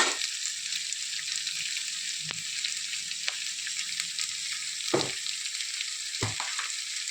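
Onions and curry leaves fry in hot oil in a pan, producing a steady close sizzle. A few sharp stirring knocks break through it, with no one talking.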